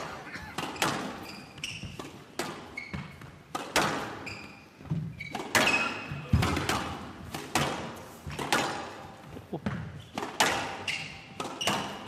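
Squash ball struck back and forth in a professional match rally, sharp racket hits and thuds off the walls in a quick, irregular rhythm echoing around the court, with a commentator's voice now and then.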